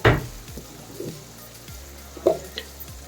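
Sweet corn, peanuts, chana dal, dried and green chilies and curry leaves fry in a pan with a soft, steady sizzle, broken by a few clacks of stirring.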